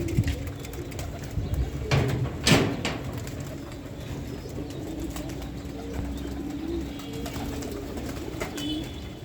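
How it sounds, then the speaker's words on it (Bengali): Pigeons cooing at close range as they are given food, soft repeated coos over a steady low hum, with one or two brief louder bursts near the start. "আর এখন এই যে কবুতরদের খাবার দিয়ে দিব।"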